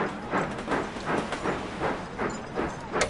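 A train runs in the railway-building video game Sid Meier's Railroads!, giving a steady rhythmic clatter of wheels over rail joints with a hissing steam-like wash, moderately loud and with no talking.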